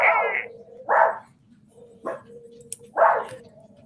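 Several dogs bark in short bursts, four separate barks spaced about a second apart, fairly close and loud, with a low background hum between them and no talking.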